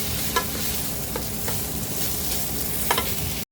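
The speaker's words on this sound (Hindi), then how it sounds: "अच्छे से भुनेंगे उसको, मिक्स तरीके भुनेंगे" Spring roll filling of vegetables with soy sauce and vinegar sizzling in a pan, a steady frying hiss with a few light scrapes of a spoon stirring, close and continuous.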